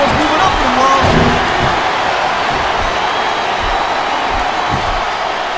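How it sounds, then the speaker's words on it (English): A packed wrestling arena crowd in the Xbox 360 game WWE Smackdown vs RAW 2007, at a Mickie James vs Trish Stratus match, roars as a steady loud wash, with occasional low thumps from the ring beneath it. "This capacity crowd is certainly getting its money's worth here tonight."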